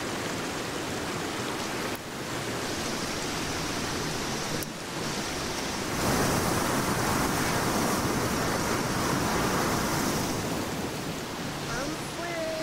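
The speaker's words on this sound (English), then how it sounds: "It's so windy." Strong wind roars through a forest in the survival game Sons of the Forest, a steady broadband rush that swells louder after a few seconds and keeps blowing without letup, with occasional faint voices underneath.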